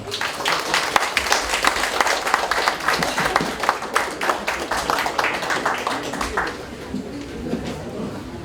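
Applause from a large audience in a hall at a foundation's anniversary ceremony, dense sustained clapping that thins slightly toward the end, with faint voices mixed in.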